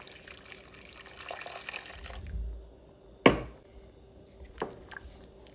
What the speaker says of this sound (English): So I'm just gonna add some more water.